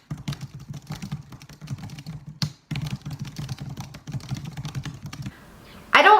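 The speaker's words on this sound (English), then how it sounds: "Every single person that I found on YouTube essentially has clicky keyboards and they type really fast." Rapid, clicky keystrokes on a computer keyboard come in dense bursts, stop briefly, then resume, close and fairly loud with no talking over them.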